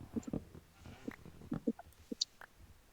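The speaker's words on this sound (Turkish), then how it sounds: "Burada yani koyunlar var." Sheep bleating in the Minecraft survival game, several short separate calls spread across a few seconds, moderately loud with no talk over them.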